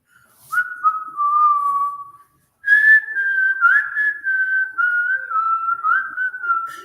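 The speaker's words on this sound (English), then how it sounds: "I usually can't whistle very good. I'm doing pretty good this time." A man whistles a tune alone, clear and close: a short high phrase, a brief pause, then a longer wavering melody that drifts up and down in pitch.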